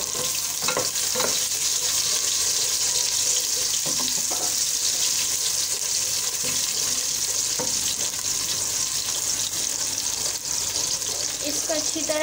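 One onion fries in two tablespoons of oil for potato samosa filling, giving a loud, continuous sizzle close up. A few soft stirring knocks break through now and then.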